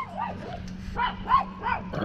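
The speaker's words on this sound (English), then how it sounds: "Quit barking at the mailman." A dog barks at the mailman: four or five quick, medium-pitched barks in a rapid run, heard from a short distance indoors.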